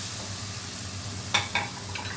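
Masala frying in a pan for a homemade mash (urad) dal, a steady soft sizzle throughout with two brief louder scraping stirs near the end.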